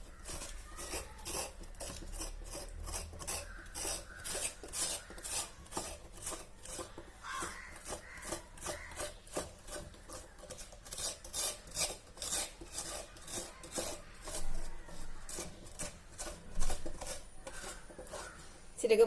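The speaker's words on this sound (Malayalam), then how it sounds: "ഞാനിങ്ങനെ ചിരമാന്തി എടുത്ത് ഇത് മാന്തി ഇതിങ്ങനെ എടുക്കുകയാണേ." A fresh pumpkin's flesh is scraped out with a hand coconut scraper, giving a long run of quick, rhythmic rasping strokes, close and steady, with a brief clatter near the end.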